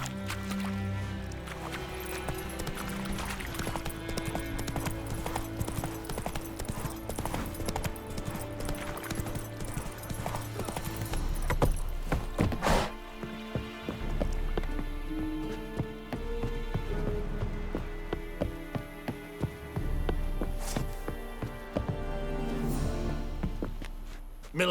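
Horse hooves clip-clop steadily in The Witcher 3: Wild Hunt, a rhythmic trot running under loud orchestral game music, with brief spoken lines.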